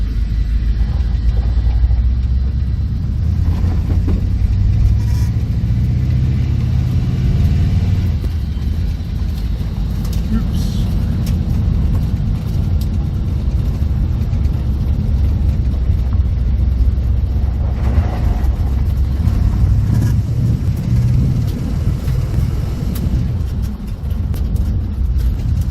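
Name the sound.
car driving on a test run around the block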